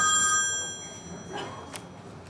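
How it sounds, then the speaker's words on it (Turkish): A telephone on a comedy stage show rings with a bright electronic trill that fades out over the first second, followed by quiet room noise and a faint click. "Sevgili seyirciler gördüğünüz gibi telefonunuz çalıyor"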